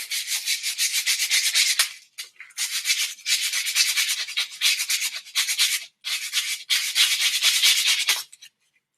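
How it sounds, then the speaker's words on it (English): Sticks being sanded by hand with sandpaper to shape wands, a steady scratchy rasping in close bursts of strokes with short pauses between, loud and alone. "You probably use most of this sandpaper right here to do this."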